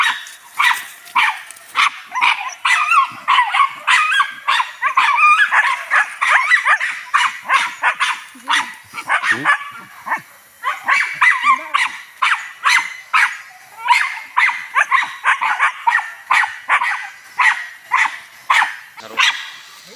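Several dogs bark repeatedly and close by during a hunt, with rapid overlapping yelps and bow-wows in a steady, almost continuous chorus throughout.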